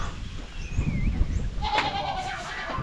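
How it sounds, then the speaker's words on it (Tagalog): Goats on a Philippine backyard farm give a few short, wavering bleats at middle distance, mixed with other farmyard noise and a low rumble. "Yung mga kambing natin,"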